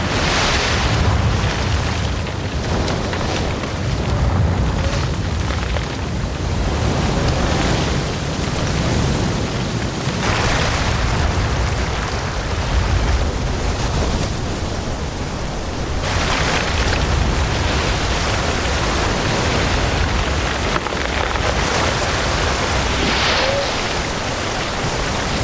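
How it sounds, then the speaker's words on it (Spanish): A huge tidal bore wave surging more than 300 km inland from the ocean, a steady loud roar of rushing water and surf with wind-like broadband noise, continuous throughout without speech. "Esto es un macareo."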